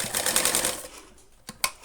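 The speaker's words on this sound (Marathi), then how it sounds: "डबल टिप मारून घ्यायची।" Sewing machine stitching a double seam on fabric, a rapid close rattling run of stitches that slows and stops, ending with two sharp clicks.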